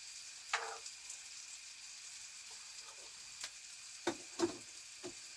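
Gravy being heated back up in a small RV kitchen, a faint steady sizzle with scattered sharp spits and pops, close and quiet, with no speech.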